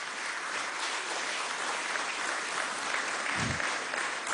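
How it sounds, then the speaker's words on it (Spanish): An audience at a presidential event with the export sector gives loud, continuous applause, a dense crowd of hands clapping steadily with a brief low thump partway through. "Un aplauso"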